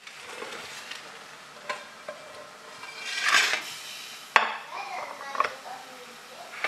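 Food browning in a pan with butter and sugar, a soft sizzle with occasional stirring scrapes and light clinks of a utensil against the pan, fairly quiet and close.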